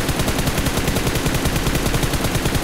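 Rapid automatic gunfire in a mobile battle royale shooter, dense evenly spaced shots rattling loud and close for the full stretch without pause, no voices.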